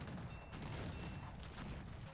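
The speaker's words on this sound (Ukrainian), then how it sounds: "Гармати по будівлям накидають." Cannon fire pounding buildings during a Cossacks 3 strategy game battle, a dense, continuous barrage of overlapping blasts and crackle at moderate loudness.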